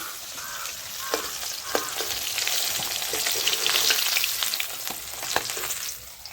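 Fish frying in hot oil for a Bengali fish curry of parshe and pabda, a steady close crackling sizzle with sharp pops and spatters scattered throughout, no talking.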